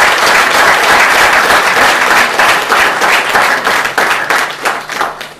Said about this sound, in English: this calls for an applause from all of us